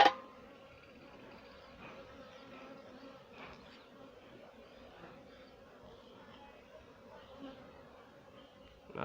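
Honey bees hum in a soft, steady buzz during a hobby hive inspection in Jamaica, fairly faint and continuous with a few brief louder passes near the microphone.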